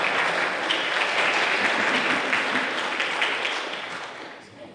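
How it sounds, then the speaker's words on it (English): An audience at a Melbourne conference talk gives a round of applause, a dense wash of clapping that holds steady for several seconds before fading out near the end. "Give them a round of applause."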